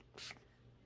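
A single short burst of fine spray mist, a quick soft hiss lasting a fraction of a second, close by in a quiet room.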